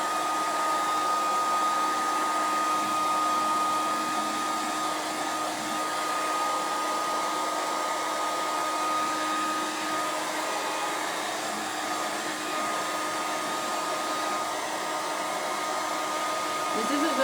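Steady, continuous whoosh of a heat tool blowing air to dry paint on a stencilled Magnolia tractor sign, loud and close, holding an even level throughout with no talking.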